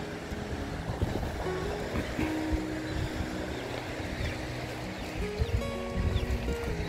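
Strong sea surf at a roadside beach where people search for gold, a steady loud wash of waves with a low rumble throughout, no voices.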